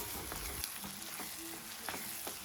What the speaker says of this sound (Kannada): ಇದನ್ನು ಒಂದು ಟೂ ಮಿನಿಟ್ಸ್ ಅಷ್ಟು ಇದನ್ನು ಫ್ರೈ ಮಾಡ್ಕೊಳ್ಳೋಣ